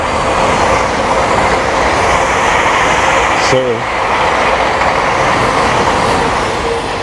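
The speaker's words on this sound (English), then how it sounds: "here comes a train" Train passing on a mainline railway line to London near the Lammermuirs, a loud sustained roar and rattle of wheels on track, with a brief horn-like tone midway.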